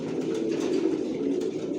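A loft full of racing pigeons of a single original racer line keeps up a dense, rolling cooing, several birds murmuring close by without pause.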